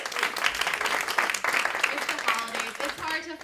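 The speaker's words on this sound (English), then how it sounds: "Give a round of applause to yourselves for coming out." An audience at a holiday comedy show claps in a full round of applause, close and busy, with cheering and voices mixed into the sustained clapping.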